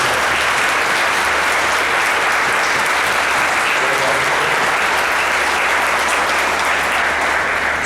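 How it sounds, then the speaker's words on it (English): Sustained applause from a band concert audience for a student teacher, a dense, even roar of clapping held for nearly eight seconds in a large hall. "You guys want to give her a round of applause?"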